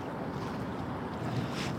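Wind blows steadily across a beach in Seoul at sunrise, buffeting the microphone with a continuous, close, rushing roar and nothing else audible.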